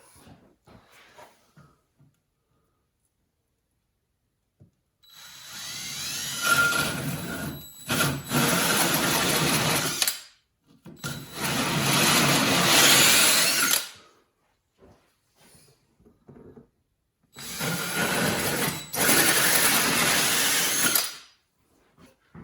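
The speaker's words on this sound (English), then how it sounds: "let's get the old drill out and see if we can open this up a little bit" A power drill whirs in three long bursts, each several seconds, with short pauses between, opening holes in the floor of a 1972 Glasspar boat; loud and close, with faint handling noises in the gaps.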